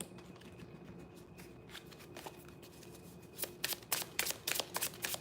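A deck of tarot cards shuffled by hand at close range: after a quiet, soft start, a rapid run of crisp riffling flicks and taps builds toward the end.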